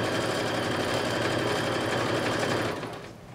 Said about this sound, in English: put your next seam in and continue sewing